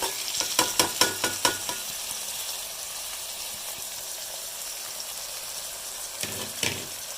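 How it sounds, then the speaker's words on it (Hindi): Masala frying in a pan with onion and ginger-garlic paste gives a steady, close sizzle, with a few sharp stirring scrapes at the start and again near the end. "ये देखिए मसाला भुनने लग गया है।"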